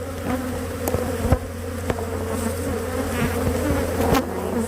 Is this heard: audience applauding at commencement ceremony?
no